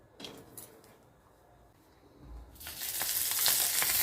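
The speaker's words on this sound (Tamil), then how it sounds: "ஸ்டவ் கொஞ்சம் சிம்லேயே வச்சு பூண்டை வறுத்துக்கோங்க" Garlic cloves frying in oil on a low flame, a soft crackle that bursts into a loud, steady sizzle after a quiet start.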